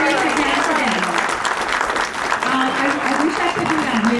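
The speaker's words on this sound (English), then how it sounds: "they deserve more applause than that" A church audience applauds in a dense, sustained round of clapping that fills the space, with voices murmuring underneath and a faint speaking voice mixed in.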